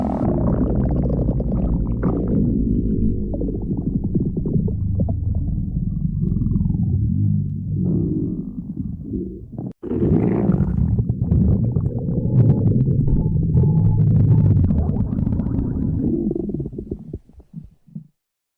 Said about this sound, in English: I can hear stomach growling